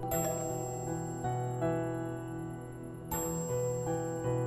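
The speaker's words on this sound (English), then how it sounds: "Why is someone ringing the doorbell?" Doorbell rings in the Minecraft video game, a steady repeating electronic ding-dong chime, clear and moderately quiet with no voices.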